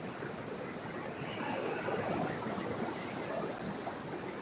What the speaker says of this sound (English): if the waves are too loud